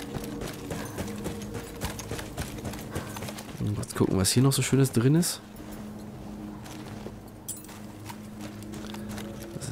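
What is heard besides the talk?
horse hooves clip-clopping in Battlefield 1 video game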